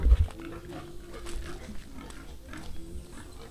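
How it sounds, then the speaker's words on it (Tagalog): A pig being taken away gives short squeals at the start, then a steady background of livestock and farm noise continues without talk. "Kinukuha kasi yung baboy."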